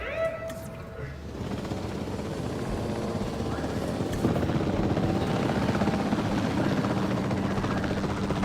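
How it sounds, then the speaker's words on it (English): A helicopter in Jurassic World Evolution 2 chops steadily and loudly as it arrives, its rotor drone building and then holding, with a short bit of other game sound at the start. "Where's my helicopter? Where's my helicopter?"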